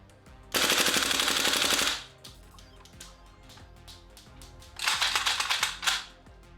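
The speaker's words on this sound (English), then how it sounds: "In fact, it loves running on fully auto. The action runs like a train, cycling away until it's empty." An airsoft AKM rifle fires two long full-auto bursts, a rapid mechanical rattling close by, with a quieter pause of faint clicks between them and a short final burst.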